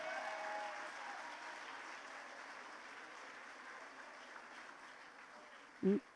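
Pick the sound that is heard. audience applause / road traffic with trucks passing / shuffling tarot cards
audience applause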